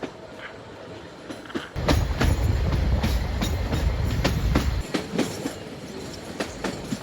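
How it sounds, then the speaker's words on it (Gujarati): Rolling rumble from inside a wooden-seated coach of Gujarat's 110-year-old narrow gauge heritage train between Bilimora and Waghai, swelling into a loud, heavy roar mid-clip with rhythmic rail-joint clacks throughout and a thin high whine for a few seconds. "આજે આપણે સફર કરવાના છીએ ગુજરાતની એકમાત્ર નેરો ગેજ હેરિટેજ ટ્રેનમાં"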